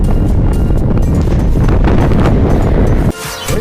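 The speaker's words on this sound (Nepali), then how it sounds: "एकदमै धेरै हावा चलिरहेछ" Strong wind on a Sherpa hilltop roars loud and continuous into the microphone, with heavy buffeting rumble, before cutting off abruptly near the end; no talking.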